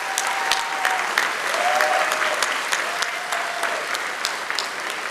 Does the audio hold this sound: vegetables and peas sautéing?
no